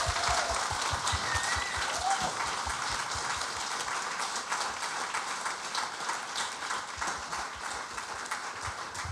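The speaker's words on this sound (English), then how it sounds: "So I'd like to ask for a round of applause before we get to the winning." Crowd at a student awards ceremony giving a sustained round of applause, dense and even clapping that fills the hall, steady and moderately loud for several seconds.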